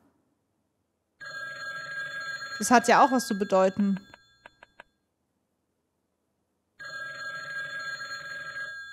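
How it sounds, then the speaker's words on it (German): A telephone bell rings in the video game Paraplüsch, with two sustained bursts of bright electronic ringing separated by a pause. People talk over the gap between them. "Also man hört ja in ihm ein Telefon."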